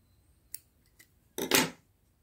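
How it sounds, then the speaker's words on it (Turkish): Scissors snip through yarn after a crocheted loofah is finished, a faint click followed by a louder, longer crisp cut, close by and with no voices. "İpimi kesiyorum."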